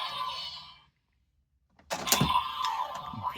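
DX Henshin Belt Gavv transformation toy belt giving its electronic closing sound effect: a short burst of bright, synthesized tones and clicks that starts after a brief silence, close and fairly loud.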